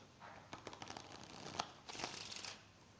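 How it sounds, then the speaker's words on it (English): A deck of playing cards being shuffled by hand, a quick series of close, crisp riffling flutters in two bursts, soft and alone without talk. "I shuffle another time."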